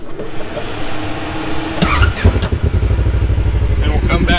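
A Kawasaki KRX UTV with a Graves aftermarket exhaust starts after a few clicks and clatters, then settles into a loud, close, throbbing idle, with a voice speaking briefly before it catches.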